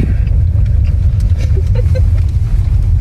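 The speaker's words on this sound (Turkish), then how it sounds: "Gelmişken İngiltere'de biraz araç kullanalım." Car driven on a road in England, heard from inside as a loud, steady low engine and road rumble with faint sounds above it and no talking.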